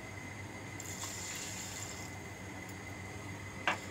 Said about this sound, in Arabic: هبتدي ازود الرز بتاعي كوبايه ميه